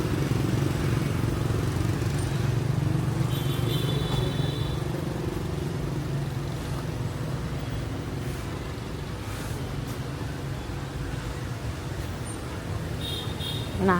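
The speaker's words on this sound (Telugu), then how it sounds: "ఇక్కడ చూసారా ఎన్ని వెహికల్స్ ఉన్నాయో ఎక్కువగా బైక్స్ ఉన్నాయి" Busy street traffic at a night market in Hanoi, Vietnam, mostly motorcycles, engines droning steadily nearby, a constant loud rumble of vehicles passing, with a few faint horn-like tones.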